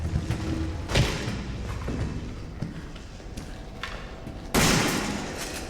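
Gunshots from the survival horror game Resident Evil 7, a few heavy thuds spaced across a dense in-game soundscape, with the loudest blast near the end.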